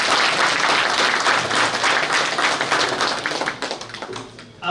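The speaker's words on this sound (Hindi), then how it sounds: "इसके लिए एक बार फिर से जोरदार तालियां के साथ डॉक्टर साहब के स्वागत होनी चाहिए।" Loud, dense applause from a gathered audience welcoming a doctor at a public function, sustained at first and then thinning and tapering off toward the end.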